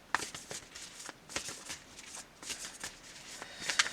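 Lover's Oracle cards being shuffled by hand, a steady run of soft, papery riffles and flicks close up, with no voices.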